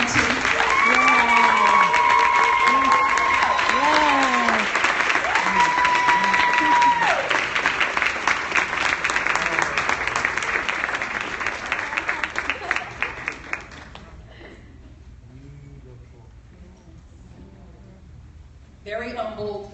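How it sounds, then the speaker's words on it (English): A ceremony audience breaks into sustained applause with whoops and cheers rising over the clapping, gradually thinning after about fourteen seconds into scattered claps before a voice speaks. "will you just give a hand of applause for Mrs."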